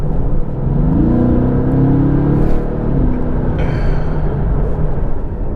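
A loud sports car, built to replace the Mercedes SLS, rumbles close by with a deep engine note that climbs in a rising rev before settling back into a heavy, steady growl.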